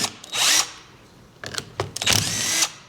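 Power tool, likely an impact driver or drill, backing bolts out of a cover on a Ford 801 tractor: two loud bursts of whirring and rattling, near and alone, separated by a few quieter clicks.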